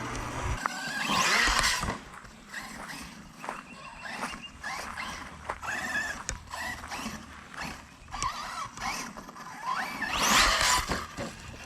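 Stunt truck with a V6 engine driving in a video game, its engine revving and surging with mechanical clatter and bursts of louder acceleration throughout.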